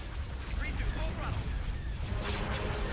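Star Destroyers firing in a Star Wars space battle mod set over Coruscant, a dense continuous roar of booming blasts and rumbling low-end explosions with no clear gaps, with a voice talking in the background.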